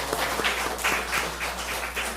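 A church congregation in a Korean Sunday service claps in thanks, a short burst of brisk, fairly even applause from a sizable crowd with a steady low hum underneath.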